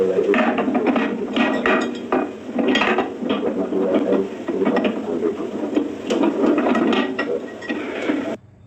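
Rustling, clicking and scraping of packaging as a new microwave is unboxed, in irregular bursts close to the microphone with no talking.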